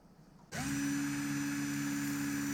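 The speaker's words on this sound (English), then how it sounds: "I chucked up the valves in a drill and using different grades of sandpaper, I went ahead and polished it" A power drill spinning an engine valve from a Datsun L24 against sandpaper to polish it starts abruptly and runs at a steady, loud whine with a constant hum, continuously without pause.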